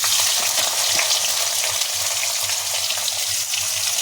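Onion and cumin frying in hot oil for dum aloo, a steady loud sizzle with crackling that runs unbroken throughout, and no talking.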